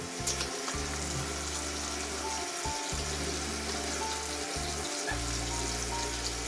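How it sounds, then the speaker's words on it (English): Water splashed onto a face before a razor shave, close up: running and splashing water with short breaks between handfuls, fairly quiet and with no talking. "I'm going to wet it a little bit more."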